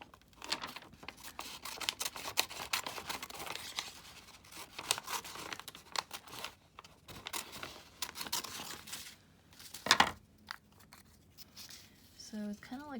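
Scissors snip through paper in quick irregular cuts, close and crisp, with rustling and crinkling of paper between them.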